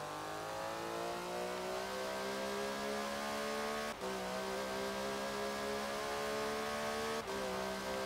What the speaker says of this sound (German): Das ist halt ein Porsche Boxermotor.